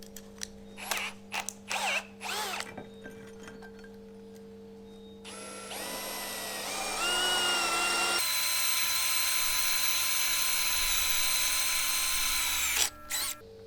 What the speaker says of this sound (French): On va taper on va partir sur la plus grosse mèche à fer qui est avec.